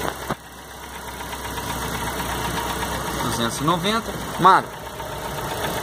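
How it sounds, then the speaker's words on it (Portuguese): The 1.0 engine of a 2004 Chevrolet Celta idles unevenly with a steady mechanical rumble and surging pulses, while someone talks over it nearby. "Agora a marcha lenta doida"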